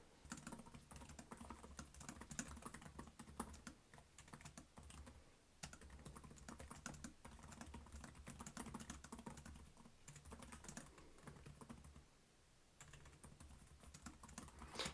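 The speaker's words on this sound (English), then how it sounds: "Let's do a quick typing test." Fast, steady typing on the chiclet-style keyboard of a Framework 13 laptop, a dense run of soft key clicks with a couple of short pauses, heard alone at a quiet level.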